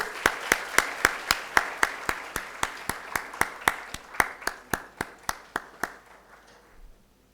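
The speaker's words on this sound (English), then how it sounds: "A huge round of applause, everybody." Audience clapping in a steady rhythmic unison beat at a conference inaugural ceremony, sharp evenly spaced claps that continue for about six seconds before trailing off.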